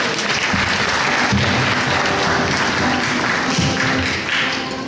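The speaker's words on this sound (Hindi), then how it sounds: "ये तालियों में कंजूसी हो रही है" An indoor audience at an Eid Milan party in a packed Walthamstow hall applauds steadily, a loud, dense wash of clapping with some heavier rhythmic claps mixed in.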